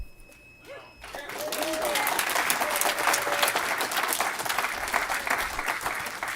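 At a town council meeting the audience breaks into applause after a quiet start, a steady, full round of clapping from a roomful of people with some crowd murmur beneath it.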